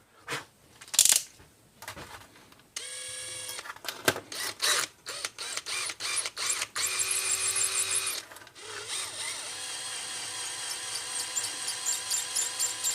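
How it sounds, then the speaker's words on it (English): A screw being driven into the mixture screw plug of a Polaris 400 HO carburetor that had sat for ten years, heard as close, uneven mechanical clicks and whirring bursts with several scraping and tapping sounds between them. "I'm going to take a screw and screw it into there."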